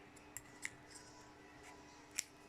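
Scissors trim the end of fishing line on a reel spool with a few quiet, crisp snips, two close together and a last sharper cut, against soft room hiss.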